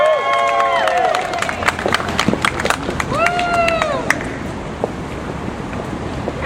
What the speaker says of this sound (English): big round of applause for Jersey,